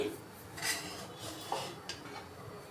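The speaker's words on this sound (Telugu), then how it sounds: "షుగర్ కూడా దీంట్లోనే వేసేసుకొని మిక్స్ చేసుకోవాలి" Sooji and sugar being stirred together in a pan for ravva laddu, with a spoon scraping and clinking against the metal in a few light, irregular strokes close by.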